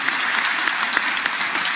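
Audience at an economics panel at the ABAD 2022 convention applauding the speaker Ricardo, a dense steady burst of clapping from many hands, loud and continuous with no break.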